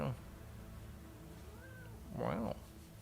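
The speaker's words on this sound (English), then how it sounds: "Visit from the oldest cat in the world." A very old cat gives a single drawn-out meow near the end, fairly close, after a quiet stretch with a faint background hum.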